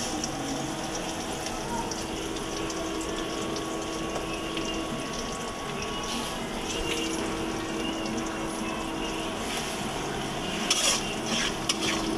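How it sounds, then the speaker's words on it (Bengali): Prawns frying in a pan with turmeric and chili powder, a soft continuous sizzle and bubbling with occasional stirring clinks near the end, quiet and close, with no talk. "চিংড়ি মাছটা ভেজে নিচ্ছে"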